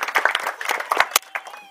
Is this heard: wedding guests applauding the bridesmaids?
yes